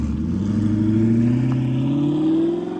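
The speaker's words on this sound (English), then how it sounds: "let's hear this engine roar" An Audi R8 engine revs up steadily, its pitch climbing smoothly over a few seconds, loud and close with no talking.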